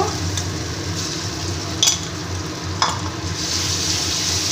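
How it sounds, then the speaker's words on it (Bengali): Ground soaked lentil paste frying in hot oil, a continuous soft sizzle with a couple of sharp scraping clicks from stirring. "ডালটাকে দিয়ে দিচ্ছি ডালটাকে দিয়ে একটু নেড়ে নেব"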